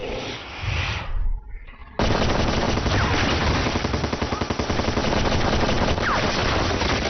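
Sustained automatic gunfire in a Hindi-dubbed monster movie, a loud dense rattle of rapid shots that breaks briefly, then returns as a continuous barrage.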